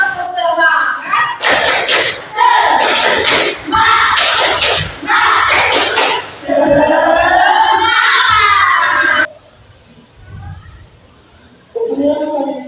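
A classroom of children claps in a rhythmic clapping game, loud and close, with bursts of slaps mixed with shouted group chanting for about nine seconds before the room falls quieter and voices return briefly at the end.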